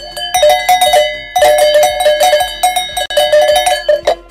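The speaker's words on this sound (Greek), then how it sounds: "Θα χτυπάει τις κουδούνες με τις κατσούνες." Cowbells hung up and struck with shepherd's crooks as a signal give bright metallic clanks in quick, ringing clusters, loud and close, with several bursts across the stretch.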